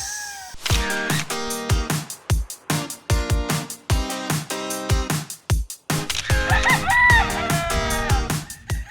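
Filipino roosters on a breeding farm crow loudly and repeatedly, several long rising calls following each other close up, with clucking and overlapping crows between them.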